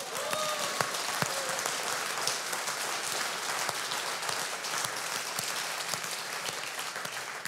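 Steady, dense audience applause fills a cabaret show, a continuous wash of many hands clapping at even loudness throughout, with no voices rising above it.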